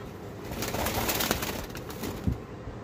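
Diamond doves cooing softly and repeatedly at close range, a murmuring coo over steady background hiss.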